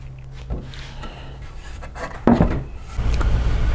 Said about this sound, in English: So let's go install this extra stud.